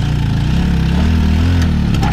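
A Mobylette moped engine just started and running steadily, a loud close buzzing putter with a slightly rising pitch, alone without voices.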